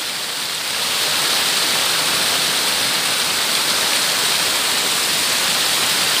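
A hidden waterfall in Barangay Mukas pours with a loud, steady, broadband rush of heavy flowing water, close by and unbroken throughout, with no voices over it.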